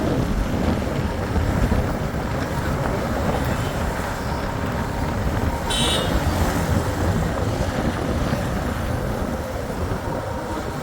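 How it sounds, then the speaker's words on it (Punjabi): Cold wind rushes steadily across the mountains on the trek to Hemkund Sahib, a loud, continuous roar buffeting the microphone and blowing unbroken throughout, with no voices. "ਠੰਡੀ ਹਵਾ ਚੱਲਦੀ ਆ"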